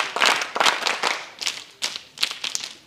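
Audience at a college scout and guide event clapping in welcome, a series of sharp bursts of hand claps with brief gaps between them, fairly close and lively.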